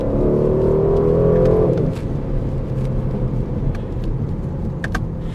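An Aston Martin DB12 Volante, a 671 hp convertible grand tourer, drives on the road: a loud engine note that drops off after a couple of seconds into a steady road and wind rumble with light clicks.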